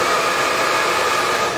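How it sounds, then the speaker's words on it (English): Hair dryer blowing steadily and close, a continuous loud broadband whoosh used to dry a dog, with no other sounds. "you can just use your hair dryer, which I have used many times"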